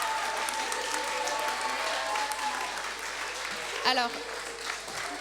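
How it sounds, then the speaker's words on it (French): Audience applause for secondary-school students at a departmental pleading competition prize ceremony: steady clapping from a hall crowd throughout, with a voice speaking over it near the end. "on peut encore applaudir très fort les collégiens et collégiennes qui ont participé"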